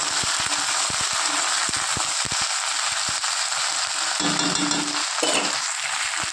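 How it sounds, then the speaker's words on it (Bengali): Mixed vegetables sizzling in a pan with hot oil, a steady bright frying hiss throughout, punctuated by small pops and crackles and occasional stirring clinks, close and continuous with no talking. "এবার সবজিগুলো দিয়ে দেবো। ভালো করে হালকা করে একটু লালভাবে ভেজে দেবো।"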